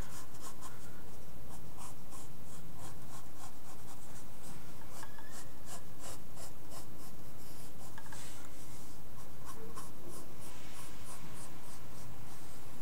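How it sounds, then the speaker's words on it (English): Pencil sketching a circle on paper with short quarter-circle strokes for a manga head drawing, a close, steady scratchy rubbing made of repeated quick strokes, heard alone. "go ahead and start drawing a circle by drawing quarter circles"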